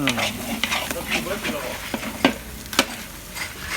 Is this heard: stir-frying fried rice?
yes